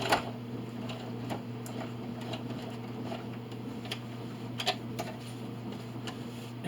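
A sewing machine stitches a quilt in a rapid, steady run of mechanical ticks and clicks, with a low motor hum underneath.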